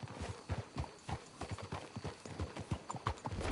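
Horse hooves clip-clopping in Red Dead Redemption 2, a steady uneven patter of several hooves on ground with a faint whinny, moderately close and without speech.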